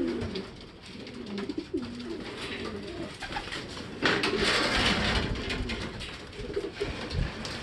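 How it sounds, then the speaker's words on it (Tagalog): Several racing pigeons coo repeatedly in soft, low rolling calls, with wing flutters and rustling as birds arrive and land nearby amid outdoor background noise. "Ayan, nagdatingan ng mga ibon eh."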